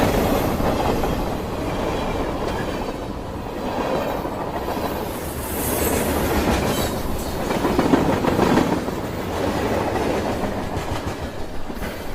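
A Chinese bullet train near Nanjing runs at high speed: a steady, loud roar of wind and track noise with faint rhythmic clatter throughout, and no voices.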